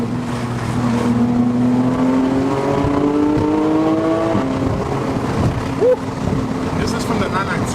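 Porsche 992 with a manual gearbox, engine note rising under acceleration, then a fluttering burble as revs settle, heard from inside the car with people talking over it.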